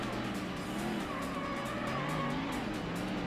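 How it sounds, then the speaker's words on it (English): A Ford Mustang slides on a race track in the Ford Racing video game, with tires squealing over a steady, loud engine roar that holds for the whole stretch. "You can see the car sliding a little bit more"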